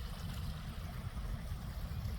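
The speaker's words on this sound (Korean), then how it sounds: "개울물이 얼음 사이로 졸졸 흐르네요." A mountain stream in winter trickles between ice, giving a steady, close, low rushing flow with no pauses and no voices.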